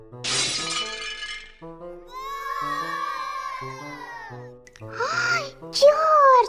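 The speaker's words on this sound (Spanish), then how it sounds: "Rompiste la taza favorita de Camila" A cup smashes loudly in a cartoon scene with Peppa Pig and George toy pigs, a bright burst of shattering ceramic at the start, followed by cartoon voices talking and exclaiming.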